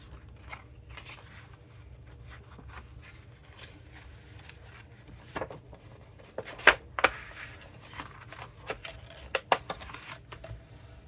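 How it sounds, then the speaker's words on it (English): Paper being creased into an accordion fold for a pull-up pouch craft, quiet close crinkles and a few sharper creasing snaps spaced irregularly over a low room hush. "you're going to do just an accordion fold"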